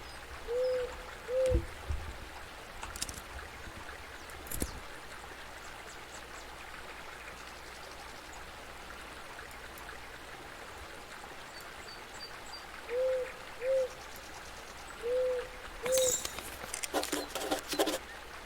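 An owl hoots in the video game Eastshade, soft paired hoots that repeat several times against a steady backdrop of flowing water, with a few sharp clicks between them.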